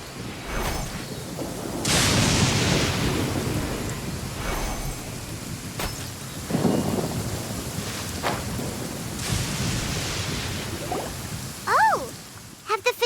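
Rain pours steadily in a video game while several deep rumbles and cracks of thunder roll through, loud and close, with a brief voice near the end.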